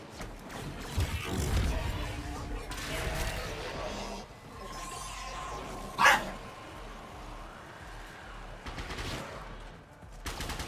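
Dog barking in a home while a video game plays, several short barks mixed with game gunfire and effects, moderately loud with a louder burst midway.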